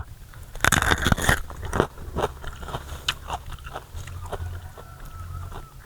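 Raw red galangal root, a large red variety, is bitten into up close with a sharp crunch, followed by scattered chewing crackles and quieter crunches.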